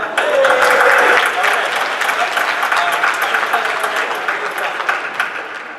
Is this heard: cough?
no